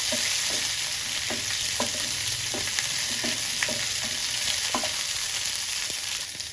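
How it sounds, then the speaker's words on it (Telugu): Green chillies fry in a pan with steady close sizzling, broken by a series of regular stirring scrapes roughly every half second; no talking. "మిర్చి కూడా ఫ్రై అయిపోయింది"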